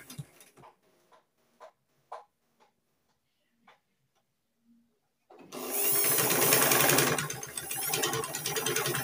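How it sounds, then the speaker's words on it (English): A sewing machine stitches the hem of a ruched party dress in a steady, loud whirring run during the second half, after a few faint ticks and handling clicks. "Then I'll sew it this way on the line."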